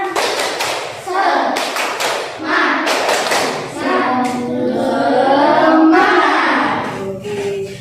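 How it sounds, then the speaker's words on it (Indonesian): A school class performs a rhythmic spirit clap, bursts of patterned hand claps and thumps alternating with children's voices chanting along, loud and close in the room. "Kita coba dulu tepuk semangat."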